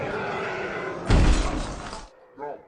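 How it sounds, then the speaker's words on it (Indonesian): In a scene from the 2007 film I Am Legend, an aggressive zombie slams into a glass pane, producing a loud, abrupt crash and cracking burst lasting about a second. It is preceded by a dense rumbling score, and a brief faint voice-like sound follows. "ada satu zombie yang kelihatannya paling ganas udah nabrak-nabrakin kaca sampai retak"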